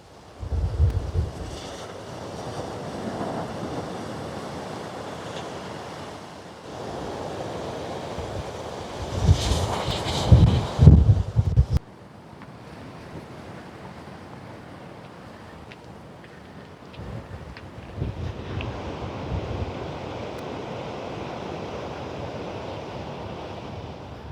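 Wind buffets the microphone outdoors on Lanzarote in rough, roaring bursts, with one strong gust swelling loudly before easing back into a steady blustery rush.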